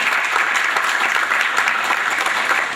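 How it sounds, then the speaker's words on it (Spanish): A dense, even round of audience applause at a formal public ceremony in Ciudad Victoria, loud and continuous from start to finish with no voices on top. "para quien pide un aplauso también."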